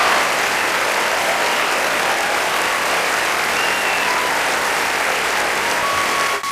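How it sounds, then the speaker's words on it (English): Dense, steady applause from a large awards-ceremony audience at the 2003 Oscars as Roman Polanski is named Best Director, a continuous roar of clapping that holds evenly for several seconds before cutting off abruptly. "Look at him there clapping."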